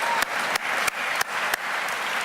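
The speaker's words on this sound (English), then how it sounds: "Keep on clapping." An audience at the Atlanta mayor's State of the City address claps continuously, a dense, loud wash of applause with regular sharp accents, with no speech over it.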